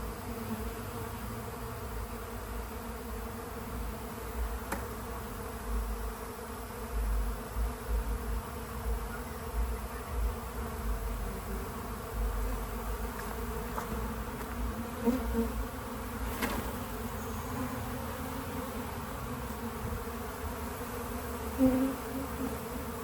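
A honeybee swarm being caught hums with a dense, steady buzz of many wings, close and continuous, with occasional louder passes of individual bees near the microphone.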